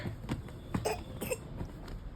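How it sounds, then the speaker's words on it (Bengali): A child gives a few short, rough coughs spaced across a couple of seconds, fairly close, with no talking. "তুমি না কাশছো, তোমার সর্দি লেগেছে"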